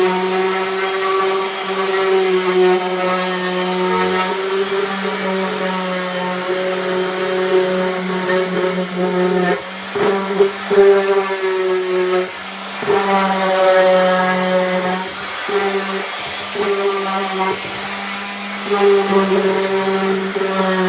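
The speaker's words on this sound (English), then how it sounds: "I got my sander. I've put on a 220 grit," A handheld electric sander fitted with 220-grit paper runs steadily, distressing the surface of a painted wooden sign; the motor whine holds close and continuous with brief dips as the sander shifts against the wood.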